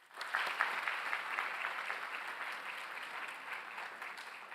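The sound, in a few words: applause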